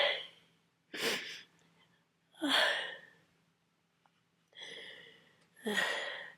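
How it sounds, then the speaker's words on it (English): A person with a cold breaks into a series of uncontrollable sneezes, five sharp close bursts with breathy intakes between them, separated by near silence. "the problem with this cold is these sneezes are completely impossible to control."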